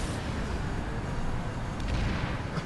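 A mounted gun fires in the video game PlanetSide 2, a dense, continuous barrage of heavy booming shots that stays loud and steady throughout, with no pauses and no talking.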